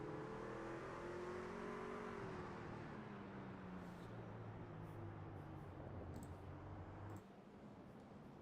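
Race cars in the Scrambler Series at Circuit of the Americas, including the number 11 machine, scream past in close formation with loud, shifting engine whine that drops in pitch as they pass, then quiets slightly near the end.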